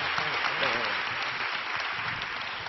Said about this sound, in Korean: 이 밤에 임하신 하나님께 감사의 박수 올려드리겠습니다.